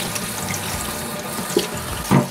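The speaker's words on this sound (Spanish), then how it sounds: "Vamos a ir lavando y las vamos a dejar todas en un bol." Swiss chard leaves are rinsed under a running kitchen tap, giving a steady hiss of flowing water in a sink, close by with no talk, and brief louder splashes near the end.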